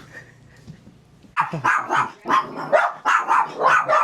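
Several puppies bark and yip in quick bursts as they play and chase each other, fairly close and loud, after a brief quieter moment with faint background sounds.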